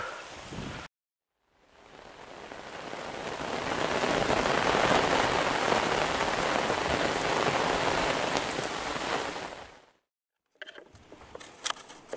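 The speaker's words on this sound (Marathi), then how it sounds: "किती मोठा पाऊस येतो काय माहित" Steady rain pours down near Kamshet in a dense, hissing patter for several seconds, fading in and out, with short quiet gaps at the start and end.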